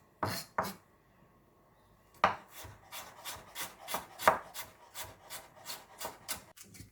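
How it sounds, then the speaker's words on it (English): A small knife slices carrots thinly on a board: two quick cuts, a pause, then a steady run of about a dozen rhythmic crisp chops, close and distinct, with no talking. "You can use a small knife, it's easier this way I think, and just cut it into thin slices this thick."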